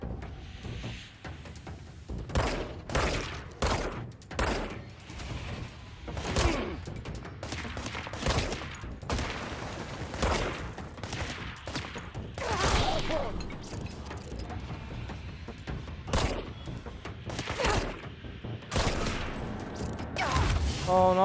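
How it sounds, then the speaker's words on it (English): Gunfire in the video game Control comes as repeated bursts of loud shots and fusillades at irregular intervals, some near and sharp, others more distant, over a low background ambience. "Oh no, who's shooting?"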